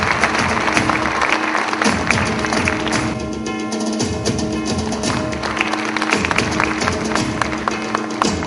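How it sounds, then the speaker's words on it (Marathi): Sustained audience applause at an award ceremony, a dense crowd of clapping hands going on steadily throughout, loud and close, with a faint voice briefly underneath. "आपण या बॅकस्टेज वर्करसाठी जोरदार टाळ्या देऊया."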